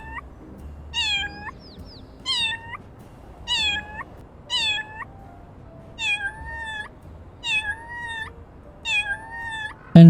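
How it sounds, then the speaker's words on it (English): Cartoonish cat meows from the Little Kitty Big City video game, repeated about eight times in an even rhythm, each a short rising-falling mew, clear and close over a low background hum. "The first one is to meow 10 times, make cat sounds of course."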